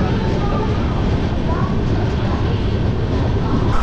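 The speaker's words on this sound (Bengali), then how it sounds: "ট্রেন দেখুন আবার এখানে দাঁড়িয়ে পড়েছে" A passenger train sits halted at Jaleswar station, giving off a steady, close, broadband rumble and hiss with no distinct events.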